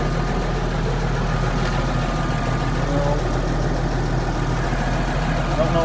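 A Massey Ferguson 3680 tractor engine idles nearby, a steady low diesel chug with a faint rattle running evenly throughout, with some indistinct voices mixed in over it.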